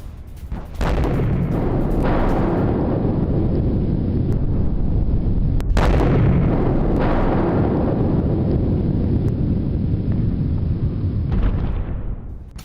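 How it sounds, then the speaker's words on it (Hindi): Israeli air strikes on Beirut's Dahiyeh district produce a loud, continuous roaring rumble, broken by several sharp blasts, with heavy wind buffeting on the microphone. "एक के बाद एक ऐसे कई हमले हो रहे हैं जिससे पूरा इलाका दहल रहा है"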